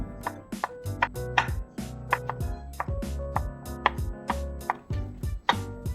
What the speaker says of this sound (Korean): 월남쌈에 넣어 먹을 표고버섯 기둥은 잘라서 보관하여 국물 내는 데 사용